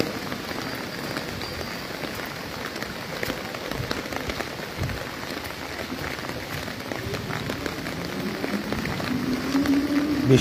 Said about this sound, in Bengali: বৃষ্টি বাড়ছে,